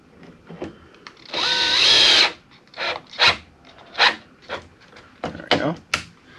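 A power drill drives a screw into a cabinet drawer front: one sustained, rising whir lasting about a second, then several short, clipped bursts of the motor as the screw is snugged tight.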